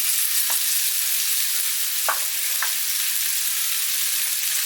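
Onion frying in garlic and rosemary oil in a pan, a steady bright sizzle with three sharp stirring scrapes, close and alone with no talking.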